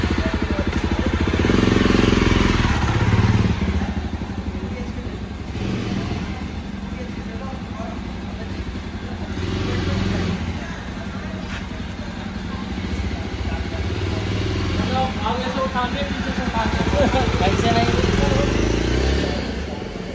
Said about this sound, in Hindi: तो अभी जस्ट इसकी छोटी सी स्पिन लेते हैं एक